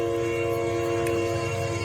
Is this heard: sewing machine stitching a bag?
no